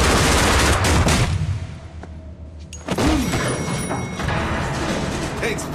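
Loud gunfire from a retro shareware first-person shooter, dense bursts of shots up front, a brief lull, then more blasts and mechanical clatter amid game effects, with no voices.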